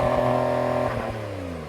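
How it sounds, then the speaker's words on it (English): A Porsche 911 engine revs hard against the soft limiter in launch mode, a loud harmonic wail that bounces and stutters at the limiter, then slowly drops in pitch. "Soft limiter for the Porsche"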